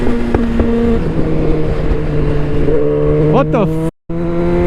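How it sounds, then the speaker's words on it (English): A Yamaha MT10 or Suzuki GSXR1000R motorcycle engine drones loud and close, then revs up with rising pitch and cuts off abruptly before droning again, while a rider speaks briefly over it. "I love when you rev it and then it just backfires a little bit after that."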